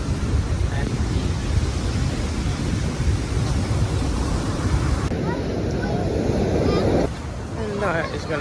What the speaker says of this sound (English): Waves are beautiful